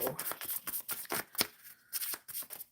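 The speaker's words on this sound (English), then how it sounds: "Shuffling for Firmino." Tarot cards shuffled by hand in a quick, crisp run of riffling and flicking bursts, close and fairly loud with short gaps between, no talk.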